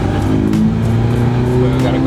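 Tuned BMW F30 320i in Sport Plus mode accelerating hard in first gear, a loud, steady, deep engine drone with rising harmonics, heard close with people talking over it.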